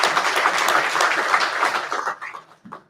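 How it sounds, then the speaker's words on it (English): An audience at an oil and gas industry leadership panel gives a short round of applause, a burst of many hands clapping that fades out over a few seconds. "let's give them a round of applause"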